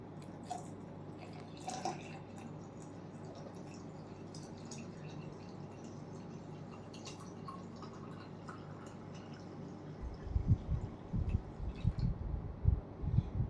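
About 400 grams of water is poured into a dish wash liquid concentrate, with quiet drips at first and then a louder, splashy gurgling pour toward the end, close by.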